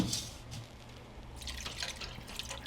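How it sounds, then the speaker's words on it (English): Water poured into a soup pot for chicken tortilla soup, a faint splashing trickle that stops briefly, then returns as a brighter, busier pour, with no talking. "I'm going to add just a little bit more water"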